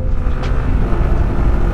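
A Honda CB150X motorcycle is ridden at speed, its engine a steady, loud low drone mixed with heavy wind rush against the microphone and no voices.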